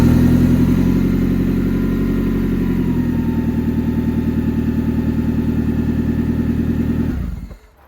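A car engine idles after an oil change, a loud, steady, close rumble with an even pulsing beat that holds for several seconds before the engine cuts off near the end.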